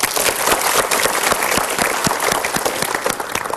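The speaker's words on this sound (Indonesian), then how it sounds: "Kita berikan tepuk tangan dulu." A seminar audience breaks into loud, continuous applause, many hands clapping together in a dense, even roar with a few sharper claps standing out throughout.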